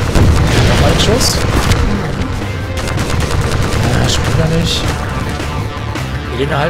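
Dense video game gunfire from the shooter Transmissions: Element 120, rapid overlapping shots and booms crackling loud and continuous throughout, with voices talking underneath.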